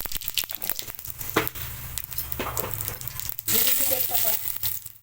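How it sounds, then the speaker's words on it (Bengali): Cumin seeds and bay leaves dropped into hot oil after fish heads were fried, for a Bengali muri ghonto with Gobindobhog rice, giving a fresh burst of close, steady sizzling and crackling that swells near the end. "এবার ওই তেলে দিয়ে দেবো জিরে,"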